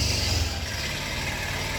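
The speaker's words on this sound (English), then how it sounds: "That is loud. That's a diesel truck." Loud diesel truck passing on a Sri Lankan street, a heavy low engine rumble with broad roaring noise, close and continuous, without talking.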